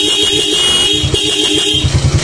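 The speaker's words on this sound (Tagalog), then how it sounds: "Testing sa busina." A Suzuki Raider J Pro motorcycle horn sounds in short repeated bursts, steady and fairly loud, with engine rumble underneath and no talking.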